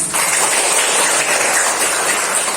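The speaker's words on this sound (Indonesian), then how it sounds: "Iya, kasih tepuk tangan." A class applauds a group presentation in a classroom: dense, steady clapping from many hands fills the room at close range, sustained evenly throughout without talk.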